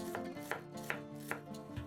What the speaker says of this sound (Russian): Лук нарезаем мелкими кубиками.